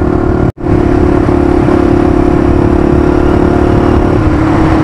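A Honda XLX 250R motorcycle engine runs loud and close on a rainy morning as it is being started. The engine note is steady and harsh, with one abrupt momentary cut-out near the beginning.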